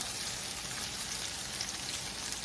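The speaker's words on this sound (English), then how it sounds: "Okay, now the onions are getting sauteed down." Chopped medium onion sautéing in extra virgin olive oil in a pan, a steady, even sizzle and hiss that runs without a break, fairly quiet and close, with no talking over it.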